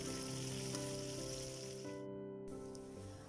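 Koi fish frying in hot oil in a pan, turned to brown on every side, give a steady, fairly quiet sizzle that runs unbroken through the whole short stretch.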